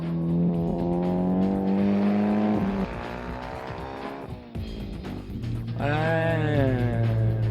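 A Honda Type R race car in a street racing video game: the engine revs rise and fall in pitch across gear changes, with tire squeal and skidding over the loud, continuous motor.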